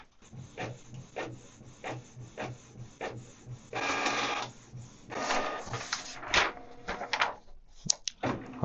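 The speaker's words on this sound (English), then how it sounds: "let the printer to work a little bit" A Canon Pixma MG3650S inkjet printer works through a page with a run of rhythmic mechanical clicks, then longer whirring feed passes and clunks, close up and fairly quiet.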